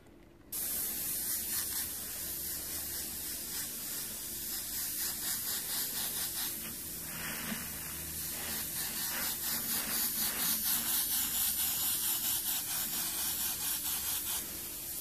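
An airbrush sprays paint onto a monotone portrait, a steady close hiss running almost unbroken for about fourteen seconds with slight pulsing as the trigger is worked.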